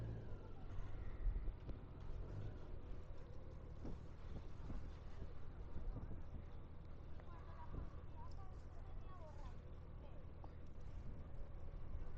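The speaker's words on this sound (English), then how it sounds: "Still pretty windy." Wind buffets a rider on a 2023 Honda Gold Wing motorcycle in gusty weather near traffic, a steady close low roar lasting throughout with a muffled voice underneath.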